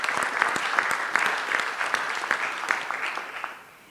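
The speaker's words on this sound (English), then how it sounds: "I think they deserve a clap for stepping up." An audience at the Wider Caribbean Regional Risk Conference gives a round of applause, a dense rattle of many hands clapping at moderate volume that holds steady and then tapers off near the end.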